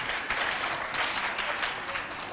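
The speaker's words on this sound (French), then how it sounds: "Vous voulez bien acclamer ceux qui sont avec vous?" An audience at a school quiz event applauds steadily, with dense, even clapping that fills the whole moment at a moderate distance.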